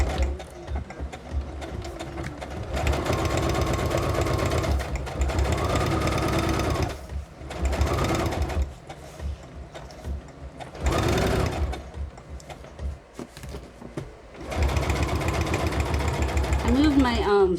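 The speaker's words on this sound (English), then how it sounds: "I moved my sewing machine back" A sewing machine runs in bursts of rapid, mechanical stitching, stopping and starting several times, close and fairly loud, with pauses between runs.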